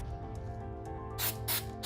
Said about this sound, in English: Hold your spray can about 8 to 15 inches away from the project.